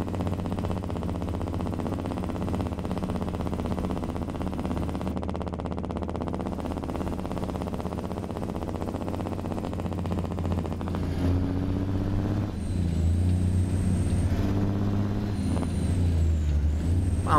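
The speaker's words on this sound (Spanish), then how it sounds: "voy a cerrar mi bocota para que escuchen ese freno de motor" A Kenworth T600 truck hauling 100 tons downhill runs its engine brake, a loud, steady rapid rumbling drone that shifts pitch and grows louder toward the end, with no talking.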